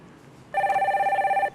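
A telephone rings once as a call is connected during a live stock-market broadcast, giving a short, steady electronic trill about a second long over a quiet background.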